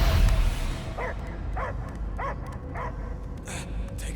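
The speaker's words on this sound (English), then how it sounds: "I hear only barking." Dog barking in the Guardians of the Galaxy video game, a string of about five evenly spaced barks against a steady game background hum.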